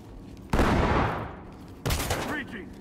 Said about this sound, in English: Shoot the lock, then clear.